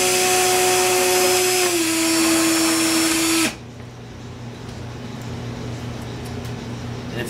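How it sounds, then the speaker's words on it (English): A loud electric drill whirs steadily at high speed for a few seconds, dips slightly in pitch, then cuts off abruptly, leaving quiet room noise. "Let me get my drill set here."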